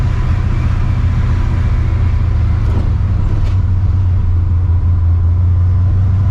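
Loud, steady low rumble of a cammed, Procharger-supercharged 650 hp 1999 Mustang GT cruising, heard from inside the car as a constant droning exhaust and engine tone with no speech.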